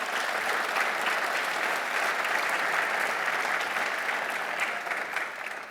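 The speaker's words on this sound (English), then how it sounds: "That deserves its own round of applause." A large audience at the Reagan National Defense Forum gives a sustained round of applause, dense and even clapping that holds steady for several seconds before tapering slightly at the end.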